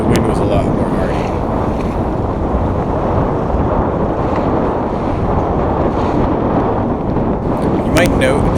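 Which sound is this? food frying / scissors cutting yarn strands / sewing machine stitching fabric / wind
wind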